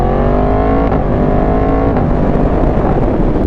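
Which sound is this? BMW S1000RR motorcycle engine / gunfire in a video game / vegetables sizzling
BMW S1000RR motorcycle engine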